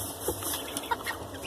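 An Olandsk Dwarf rooster gives a few short, low clucking calls to hens over a quiet outdoor background, with faint chirps of other birds nearby.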